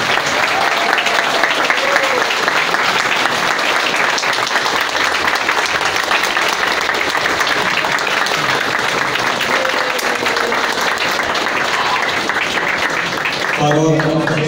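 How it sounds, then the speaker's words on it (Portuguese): Churchgoers applaud as a commemorative plaque is unveiled at the inauguration of a restored parish hall in Brazil. Steady, loud clapping from a full room continues for about fourteen seconds, with a few voices mixed in. "Uma salva de palmas."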